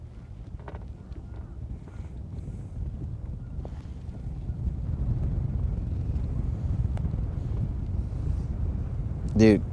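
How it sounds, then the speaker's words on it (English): Cold wind blows outdoors during live bass fishing, a steady low roar buffeting the microphone that grows louder in the second half, with a brief tonal whine at the very end. "this wind is cold."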